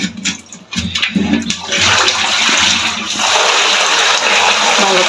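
Fresh tomatoes being washed in water, starting with splashing and handling in a basin before a loud, steady gush of running water takes over, close by.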